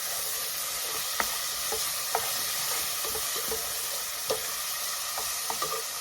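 Garlic and onion seasoned with all-purpose seasoning and white pepper fry in a soup pot, producing a steady, even hiss of sizzling broken by a few sparse, light spoon taps.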